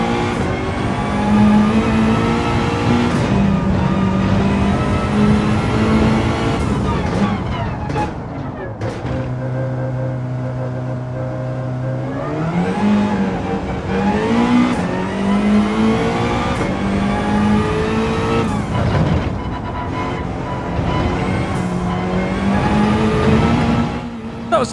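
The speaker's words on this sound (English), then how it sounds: "You can hear that turbo as well, which is always nice to hear" A video game race car engine roars loudly and continuously on a circuit, revving up and down through gear changes with a high turbo whine on top, no voices present.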